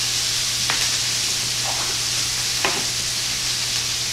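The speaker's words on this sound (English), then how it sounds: "just stir it all up to combine it together" Cabbage with bacon and onion sizzles steadily in a pan while a spoon stirs through it, a few soft scraping strokes standing out over the constant frying hiss.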